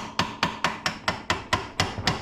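A steady series of about nine sharp hammer blows on metal, evenly spaced and ringing slightly, loud and close with no talking.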